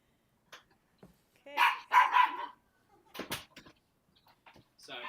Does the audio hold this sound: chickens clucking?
no